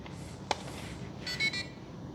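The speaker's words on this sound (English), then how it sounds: "why does it keep beeping at me though?" A single sharp electronic beep from a Redcat Gen9 1:10 RC trail truck sounds briefly, followed a moment later by a couple of short, higher-pitched chirps over a faint background hiss.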